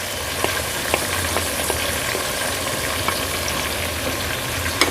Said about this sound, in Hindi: अब हम गोश्त की अच्छे से बुनाई करेंगे तब तक जब तक के गोश्त का कलर जो है वो चेंज ना हो जाए